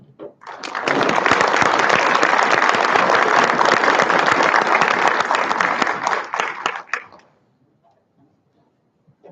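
A conference audience at DevOps Days Raleigh 2023 applauds at the end of a talk, dense sustained clapping that swells quickly, holds for about six seconds, then fades into silence.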